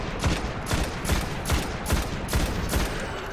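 Weapon fire from the sci-fi shooter Destiny, on a Moon patrol, repeats in evenly spaced, punchy shots, roughly two or three per second, steady and fairly loud with no talk.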